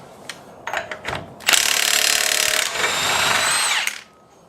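Milwaukee impact power tool breaking loose a 32 mm axle nut on an S550 Mustang, a few short rattling bursts followed by a long, loud, sustained hammering run that cuts off abruptly.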